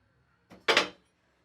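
A lid is lifted off a pan of snack dough that has steamed for ten minutes on a high flame: a short soft knock, then a quick breathy rush of steam lasting about a third of a second before quiet.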